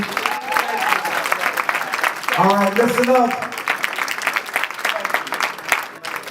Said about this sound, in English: give another round of applause for Dr. Sebi